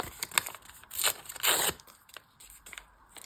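Several quick bursts of tearing and crinkling as a paper packet is opened, two louder rips in the middle, close up with no talking.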